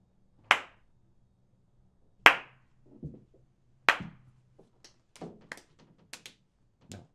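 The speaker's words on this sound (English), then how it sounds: "Giving himself the slow clap." One person gives a slow clap at a dinner party: three loud, separate claps about a second and a half apart, followed by quieter taps and small movement sounds.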